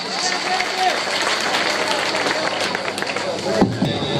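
Audience applause at a mushaira for a poet, a dense continuous wash of clapping and crowd noise with voices mixed in, loud and steady.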